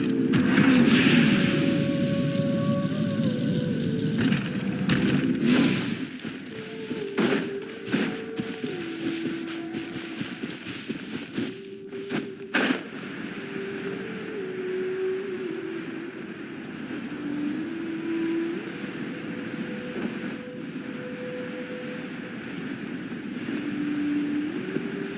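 Engines rev during a festival event in Genshin Impact, a loud droning roar with shifting pitch and wind-like rush throughout, briefly dipping and surging before settling into a steady hum.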